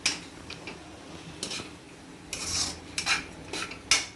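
Ginger garlic paste stirred and fried in a pan, a spoon scraping and clinking against the metal in several short, moderately loud strokes, without any talk.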